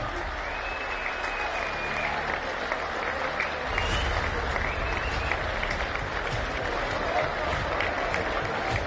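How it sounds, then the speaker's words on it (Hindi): Loud, dense crowd applause at a farmers' protest rally, with whistles and raised voices mixed in, sustained across the whole stretch. "एक बार सभी कलाकार भाइयों के लिए जोरदार तालियां बजा दीजिए।"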